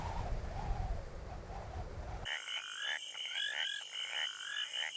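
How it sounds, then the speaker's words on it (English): Frogs croak in a dense chorus, rapid rattling calls layered with overlapping higher trills, loud and close with no voices; the sound cuts in abruptly after a moment of other ambient noise. "amphibians, namely frogs and toads, who are reputed to croak louder before rainfall"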